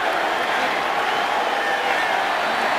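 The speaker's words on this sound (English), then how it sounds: "the crowd is really pumped up to see him" Football stadium crowd at an NFL preseason game between the Rams and Browns, a dense, steady roar of cheering that holds loud and unbroken as Johnny Manziel takes his first snap.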